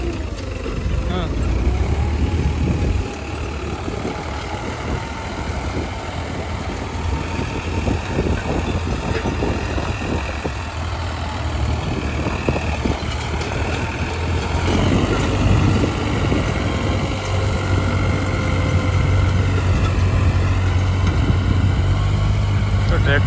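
A tractor engine runs steadily while tilling a field, turning soil; a loud continuous low rumble with shifting pitch plays under ongoing speech in Hindi.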